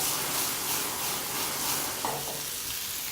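Food browns in a pan over high heat with a loud, constant sizzle and hiss. A few stirring scrapes stand out near the end, and no one speaks.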